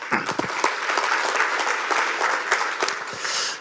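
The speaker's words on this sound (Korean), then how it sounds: "함께 격려의 박수를 부탁합니다" Encouraging applause from an audience at a Busan event, dense and sustained clapping filling the room at steady loudness for the whole stretch.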